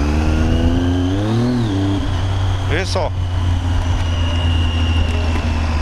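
A motorcycle engine with a faulty clutch runs loudly and steadily up close, revving briefly, with a short harsh mechanical whine partway through and a voice speaking briefly.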